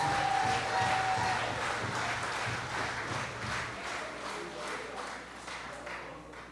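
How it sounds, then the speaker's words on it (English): Audience applause at an Anglican school zonal meeting, a steady wash of clapping from a crowd that slowly thins and fades over several seconds, with a faint tone early on. "you should give yourself a round of applause"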